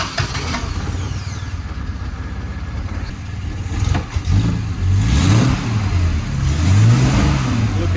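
A 1970 Triumph TR6 engine idling close by, then revving in several rising and falling pulls, loud and unaccompanied by talk.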